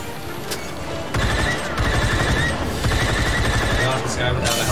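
Blaster gunfire in Star Wars Battlefront II: dense overlapping volleys of shots rattle continuously through a battle, loud and close, with voices calling out over the fighting.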